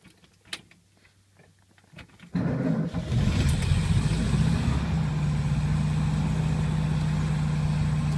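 A 1957 Volkswagen Beetle engine, carburetor recently cleaned, cold-starts after a couple of quiet seconds with a brief crank and catch, then settles into a steady, close, even idle hum with no talk.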